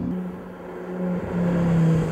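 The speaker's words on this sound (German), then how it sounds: "Selbst auf dem kleinen Kurs beschleunigt er auf den Geraden tierisch." An Audi R8 V10 accelerating along a straight on a small race track, its engine note holding a steady droning tone that rises slightly and grows louder toward the end, alone without voices.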